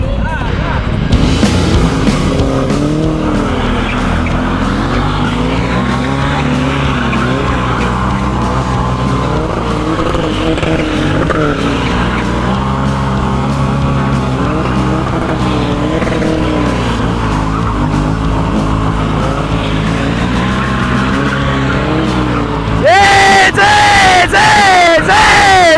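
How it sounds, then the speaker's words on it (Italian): A car doing a burnout on a street in Naples, with a sustained roaring engine and screeching tires that hold for over twenty seconds, then a louder revving surge near the end, close and intense. "Io posso andare in burnout anch'io"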